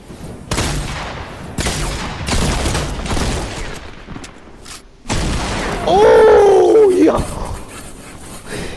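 A heavy pump shotgun in a Fortnite skirmish at Loot Lake fires several loud, sharp blasts spaced about a second apart, with a final shot followed by a brief tonal in-game effect and voices chatting over the action.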